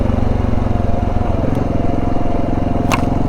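A dual-sport motorcycle on a solo desert motocamping ride along the Southern California and Nevada backcountry route runs steadily up close, its engine a continuous throbbing drone with no voices.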